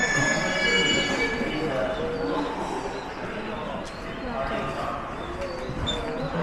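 A train in Japan rolling along the rails, with continuous rumbling and high metallic wheel squeal throughout, while voices talk nearby.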